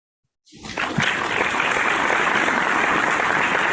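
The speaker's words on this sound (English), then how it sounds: "Can I get a little bit of a cheer sound?" A canned crowd cheer and applause effect triggered during a live online Q&A session, bursting in suddenly after a short silence and holding as a loud, dense wash of clapping and cheering to the end.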